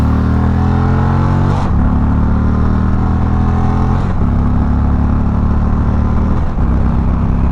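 An Indian Chieftain air-cooled bagger motorcycle engine drones loudly and steadily in second gear at about 40 mph, with a low throbbing rumble and brief dips around the gear changes.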